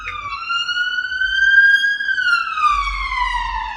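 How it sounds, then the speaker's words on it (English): Siren of an emergency vehicle passing on a London street, with a loud wailing tone that rises and then falls, faint traffic rumble underneath. "I got a siren now, so just a sec."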